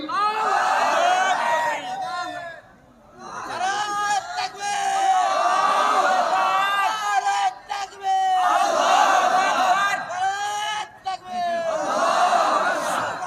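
A large crowd of worshippers at a political religious gathering shouts the takbir in loud repeated chants, each swell of many voices followed by a short pause before the next call.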